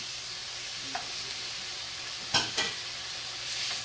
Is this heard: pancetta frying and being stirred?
yes